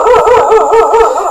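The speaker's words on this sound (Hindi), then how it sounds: "पता नहीं क्यों भौंक रहा है।" A dog lets out a sustained, wavering howl-like bark that holds steady and loud throughout, with no talking over it.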